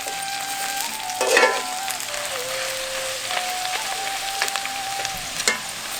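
Pirandai being sautéed with tamarind, ginger garlic, chillies and curry leaves, a moderate crackling sizzle with occasional stirring scrapes and a faint background tone.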